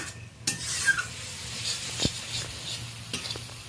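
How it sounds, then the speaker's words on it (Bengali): Spices being sautéed and stirred in a pan for a prawn curry, a soft continuous sizzle broken by scraping strokes and a few sharp clinks of the spoon against the pan, with no talking. "এটা ভালো করে সমস্ত মশলা 3-4 মিনিট ধরে কষিয়ে নেব।"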